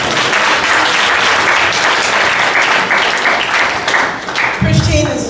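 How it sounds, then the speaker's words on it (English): A crowd at an internship completion and scholarship ceremony breaks into loud, dense, sustained applause, many hands clapping at once, tapering slightly near the end. "Come on up, Christine. Big round of applause,"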